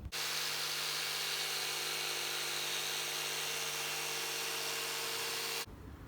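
Power tool rough cutting a sheet of plywood, a steady loud whirring drone with a constant pitch that runs about five and a half seconds and then stops abruptly.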